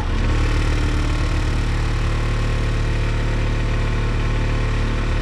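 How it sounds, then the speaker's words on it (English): The blower wheel of an old Atwood RV furnace runs out of balance, giving a steady, continuous mechanical drone with a rough, wobbling hum that holds even throughout. "That sounds like a wheel out of balance."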